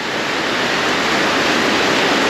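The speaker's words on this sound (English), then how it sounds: "Oh, it's hosing down. Oh my gosh, it's getting stronger." Heavy tropical rain pours down in Trat, Thailand, a dense, loud, unbroken hiss of downpour that fills the whole moment with no other sound standing out.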